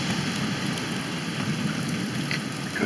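A hailstorm with heavy rain and thunder pours down during bad weather, a loud, dense roar of precipitation that stays constant and close, with faint low rumbles underneath and no voices.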